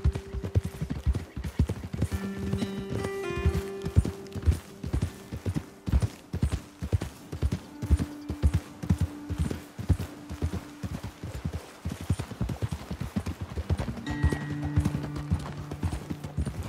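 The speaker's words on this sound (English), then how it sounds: "Okay, let's dismount here. Best leave the horses back a bit." Horse hooves clip-clop in a steady, rapid rhythm as riders travel across open ground in Red Dead Redemption 2. Several horses move at once, with an occasional snort or whinny and background music under the continuous pounding.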